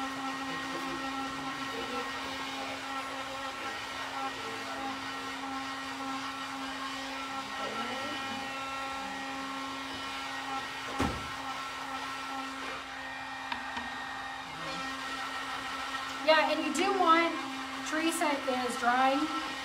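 A hair dryer blows steadily on a chalk-painted table top, a constant whirring hum that holds for most of the stretch before faint handling noises and brief activity near the end.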